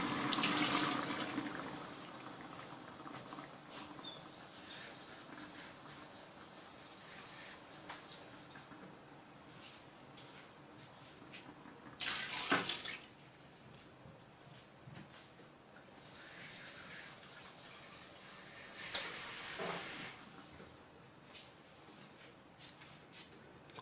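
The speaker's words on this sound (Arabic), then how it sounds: "نضيفو الماء" Water is poured from a tap or jug into a pot of vegetables being cooked for Moroccan couscous, a soft steady gush with a couple of louder splashing bursts, close by and without talk.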